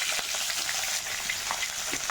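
Large onion pieces fry in oil for a pumpkin-and-prawn dopeyaja, a loud continuous close sizzle with light scraping and stirring clicks scattered through it, no talking.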